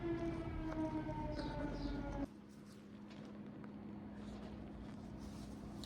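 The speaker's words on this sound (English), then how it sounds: "There goes the lunch siren here in Thorsby." A loud, steady lunch siren wails outdoors in Thorsby for a couple of seconds, then cuts off, leaving a quieter lingering hum and faint background noise.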